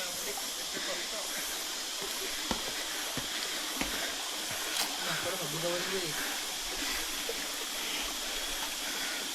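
Water rushes in a steady, broadband hiss from a waterfall stream at Saptasajya, continuous and fairly close throughout, with a few faint clicks and background sounds.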